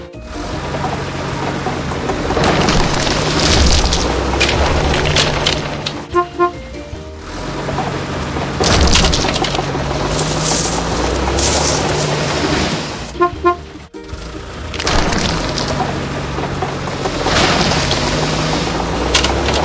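Cartoon demolition of dilapidated buildings in a kids' house-building animation: repeated crashing booms and rumbling machinery in loud waves, broken by short chimes and a sharp clunk.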